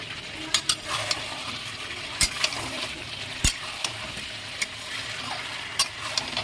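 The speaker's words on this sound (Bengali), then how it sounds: "ঢেকে দিয়েছিলাম আগলা করে নাড়িয়ে নেবো" Chicken curry meat stirred in a frying pan under a constant sizzle, with sharp spoon clicks against the pan at irregular intervals, close and clear.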